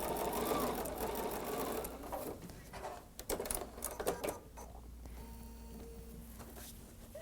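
A sewing machine stitches a quarter-inch seam on a quilt-as-you-go dog placemat with fusible fleece, running loud and steady at first, then breaking into short bursts and softer stop-start stitching with quiet gaps.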